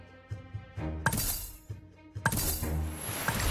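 Glass shatters in a fighting game, in two loud crashing bursts about a second apart. Each crash leaves a long bright tinkling decay, and lighter thumps and clinks fall between them.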